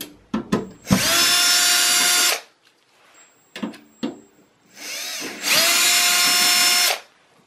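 A power screwdriver whirs in two sustained bursts of about a second each as it backs screws out of the hard drive cage of an HP Pavilion desktop, with small handling clicks between runs, close up and without speech.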